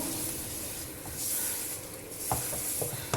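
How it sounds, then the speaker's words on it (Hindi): Maida flour frying in melted ghee over a low-to-medium flame, stirred in the pan for barfi; a steady close hiss and scrape with a few soft knocks near the end, no talk. "और लो से मीडियम फ्लेम पे हम इसको फ्राई करेंगे, यानी कि पकाएंगे मैदे को।"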